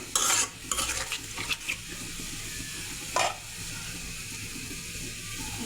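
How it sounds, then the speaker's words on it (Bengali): Spice paste sizzles as it is stir-fried in a pan while cooking pomfret curry with green peas, with sharp scrapes and clinks of a utensil early on and one more near the middle over a steady low fry. "এখন মশলাটাকে কষিয়ে নেব।"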